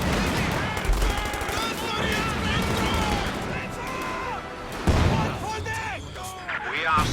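Gunfire and artillery bursts in a war strategy video game, a dense continuous barrage of loud shots with heavier blasts, someone talking over the din.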